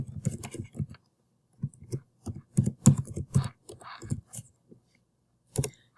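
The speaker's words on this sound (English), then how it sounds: "Type in your email." An email address typed on a computer keyboard: bursts of quick close key clicks in irregular clusters with short pauses, ending in a lone final keystroke after a gap.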